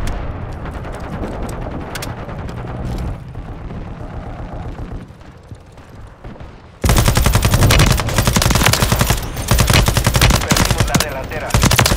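Machine gun fire rattles in Call of Duty Modern Warfare 3, with rapid bursts under game audio that drop away briefly, then a much louder, sustained stream of automatic fire in the second half.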